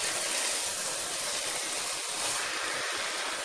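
Steam hisses steadily from a pot of Kerala-style aviyal, a sadhya vegetable dish, as it cooks; a continuous, even hiss with no voices.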